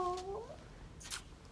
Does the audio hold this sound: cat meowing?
yes